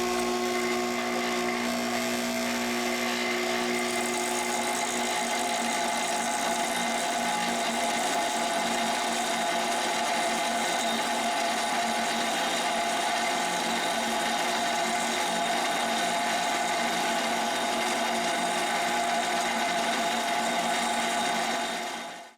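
A bench grinder fitted with a CBN grinding wheel runs steadily on test, giving a loud, continuous high-pitched whine with strong tonal hum, alone with no talking throughout.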